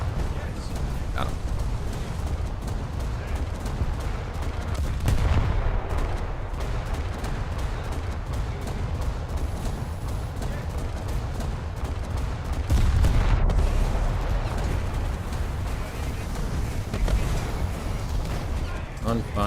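Naval gunfire in the War Thunder naval realistic battle mode: a dense, continuous low rumble of cannon fire and explosions with louder bursts near 5 and 13 seconds, persisting throughout under a steady background roar.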